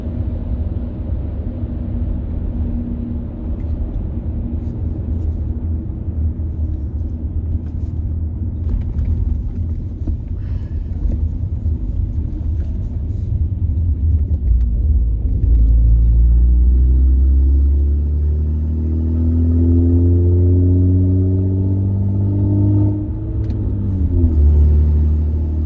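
A car engine idles without its catalytic converter, making a loud, deep, steady exhaust rumble with a gargling, uneven low drone that swells and shifts over the length, close by with no talking.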